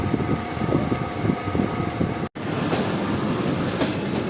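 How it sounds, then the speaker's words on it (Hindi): A passenger train pulling out of Khanpur station at night, its wheels and carriages rumbling steadily with rhythmic clatter heard from inside the coach, the sound continuous apart from a momentary gap midway. "तकरीबन 10:30 बजे हमारी ट्रेन निकल रही है खानपुर जंक्शन रेलवे स्टेशन से"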